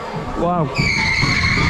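The Shockwave roller coaster at Drayton Manor dives into its brakes with a steady, high whining hiss and a low rumble, just after a rider exclaims aloud.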